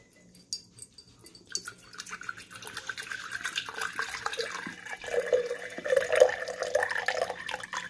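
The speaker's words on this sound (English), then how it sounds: "So I'm gonna pour some of this hydrogen peroxide." Hydrogen peroxide poured from a container into a glass vessel for germinating traveler's palm seeds, a soft trickling and dripping pour that builds gradually over several seconds, close but fairly quiet with no talk.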